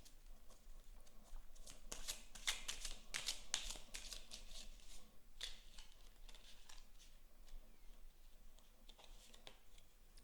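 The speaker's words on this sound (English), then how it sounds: "let's get some more tarot cards about those opportunities that are coming in" Tarot cards being shuffled and drawn by hand during a reading, with soft riffling bursts and papery flicks that cluster and then taper into occasional slides, quiet and close, with no speech.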